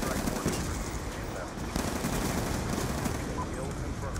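Steady, dense automatic gunfire from Black Ops 2 multiplayer, close and continuous throughout with barely a pause between rapid shots.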